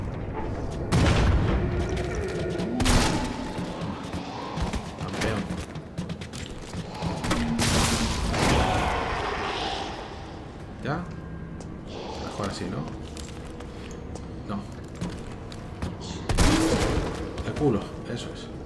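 Several loud shotgun blasts in Resident Evil 3 Remake boom out in bursts, each sharp report followed by rumbling echoes, with a person talking between and over the shots.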